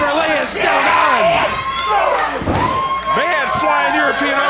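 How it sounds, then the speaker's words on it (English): A wrestling crowd on its feet for the champion at a CWF Mid-Atlantic show, a loud sustained roar of cheering and shouting filling the arena, with voices and a thud or two mixed in. "And this crowd is on their feet for the champion."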